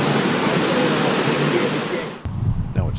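Water sprays against a car's windshield and door trim rubbers during a leak test, a steady broadband hiss like a hose or rain that cuts off abruptly near the end, leaving a quieter muffled interior with a faint voice.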